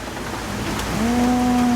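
Steady rain falls at a rural home, a continuous broadband hiss throughout, and a cow moos nearby over it in the second half.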